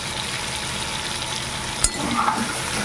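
Elephant foot yam fries in fish oil with salt and turmeric, making a continuous close sizzle with a brief clink partway through, and no speech.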